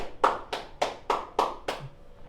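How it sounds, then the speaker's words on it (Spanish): Six slow, evenly spaced hand claps ring out in a church service, each sharp and fairly loud, tapering off after about two seconds. "démosle un aplauso al Dios de la gloria"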